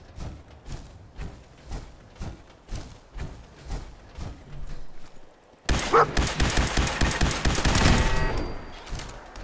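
Rapid bursts of energy-weapon fire from a laser turret in Fallout 4, steady repeated shots that swell into a dense, louder barrage in the second half.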